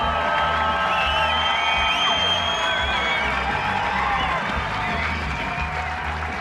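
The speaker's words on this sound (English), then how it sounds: "let's hear a big Canadian hotel cheer for Jason McClintock." A large crowd cheers and whoops for water skier Jason McClintock at the 2009 World Water Ski Championships men's slalom final, a loud, steady roar with scattered shouts and applause running through the whole stretch.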